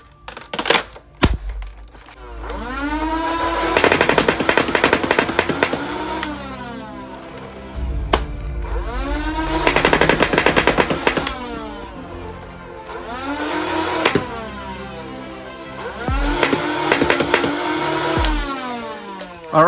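A Percy's foam ball blaster fires Adventure Force ammo in about four loud bursts of rapid shots, each with a whirring motor that rises and falls, separated by short lulls.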